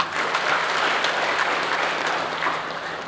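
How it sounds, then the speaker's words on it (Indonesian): Audience applause fills a training session for the sixth batch of an upskilling and reskilling course, a steady, dense clapping from a roomful of people that holds at an even level for about three seconds. "Beri aplaus buat kita semua."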